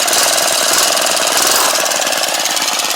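A small engine idles steadily after a carburetor adjustment, a loud, rapid rattling putter close by with no speech.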